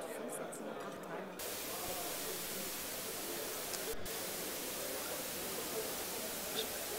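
Radio static from a receiver tuned near 530 megahertz: a steady, dense hiss of broadband noise that holds evenly throughout, with a brief shift in texture near the start.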